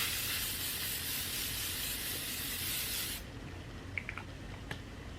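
A L'Oreal Infallible setting spray gives a loud, close, continuous hiss for about three seconds and then stops abruptly, followed by a few faint clicks.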